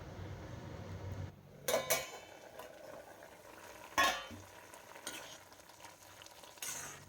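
Dhekia fern greens khar with dried fish simmers in a pot with a low bubbling sizzle. Sharp scraping and clanking of a utensil against the pan breaks in several times, loud and close, with no voices.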